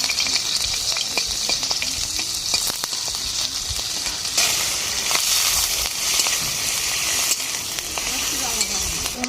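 Chopped onion and egg fry in oil in a pan, giving a steady, close, full sizzle that fills the whole stretch, with frequent clicks and scrapes from stirring and no talk over it.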